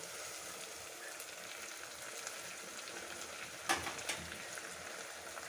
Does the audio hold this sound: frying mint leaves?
yes